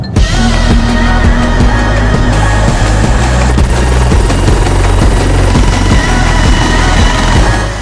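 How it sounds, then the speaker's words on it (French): Helicopter engine with a loud, steady rotor and turbine roar and rhythmic low thumping that fills the whole stretch, close and continuous, no voices. "Finalement, ce n'était pas un avion, mais un hélicoptère qui m'attendait."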